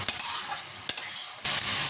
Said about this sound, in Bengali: চাউল অলমোস্ট ভাজাই হয়েই এসে সিদ্ধ হয়ে গেছে আর একটু ভাজা ভাজা হবে